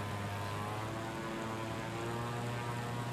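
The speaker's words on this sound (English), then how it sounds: "This is such a beautiful airplane." A propeller airplane drones steadily in Microsoft Flight Simulator 2020, a constant close engine hum with a strong low tone that holds unchanged throughout, with no talk.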